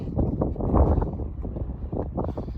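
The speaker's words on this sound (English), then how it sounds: "a bit windy" Steady wind gusts buffet the microphone on a mountain trail summit, a loud continuous low rumble that swells and eases throughout.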